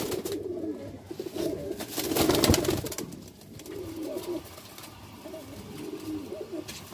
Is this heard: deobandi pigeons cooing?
yes